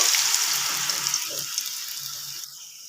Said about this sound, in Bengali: এবার তেলের মধ্যে দিয়ে দেবো।